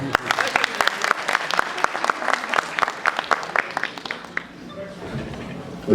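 Audience applause at a literary festival panel, brisk close clapping that fades out after about four seconds, leaving quiet room tone.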